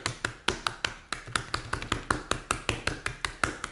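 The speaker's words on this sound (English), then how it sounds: "with my fingers actually start to paddle the meat" Fingers pat and paddle a raw beef fillet in quick, fairly regular wet slaps, about four per second, close up with no voices.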